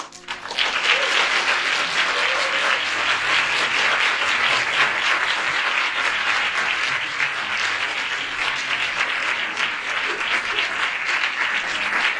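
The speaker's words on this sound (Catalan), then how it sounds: "un fort aplaudiment pels actors de doblatge que portem avui" Loud, sustained audience applause for the dubbing voice actors at an anime screening night at Manga Barcelona 2022, dense steady clapping from a large crowd lasting the whole stretch without letting up.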